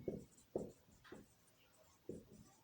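Someone writes on a classroom board during a Class 10 maths lesson on triangles, making four distinct, quiet, scratchy strokes with short pauses between them.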